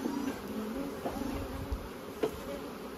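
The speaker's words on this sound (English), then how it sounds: "So there's lots of bees there to make a viable hive." Honey bees buzz at an open hive during a mid-season split, a soft, steady drone with a few faint knocks from handling nearby.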